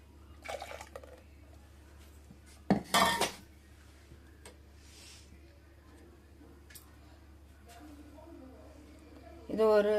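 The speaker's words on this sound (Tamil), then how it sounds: "அடுப்பில் வானலி வச்சுருக்கேங்க, அதில் ஊற்றிடும்." Smooth ground poppy seed paste is tipped into a pan on the stove, giving a sharp metallic clank of pan and utensil, scraping and faint wet pouring, with a louder clatter near the end and soft talking in the background.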